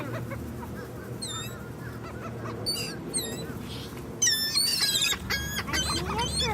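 Geese honking near a pond, scattered calls early then a louder cluster of repeated honks toward the end, close over an outdoor background.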